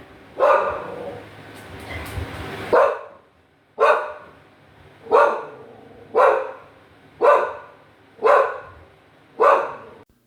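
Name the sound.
dog barking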